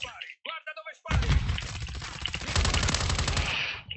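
Rapid automatic gunfire in Call of Duty: Modern Warfare 3 multiplayer, a sustained loud burst of machine-gun fire lasting several seconds after a brief moment of talk.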